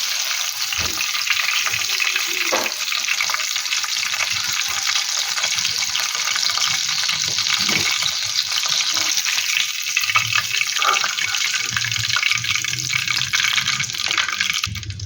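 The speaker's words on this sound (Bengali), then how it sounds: "বাকি পপকর্নগুলোকে ভেজে নেব।" Chicken popcorn pieces deep-frying in hot oil, a steady dense sizzle and bubbling hiss running continuously throughout with occasional soft clinks of utensils, no voices.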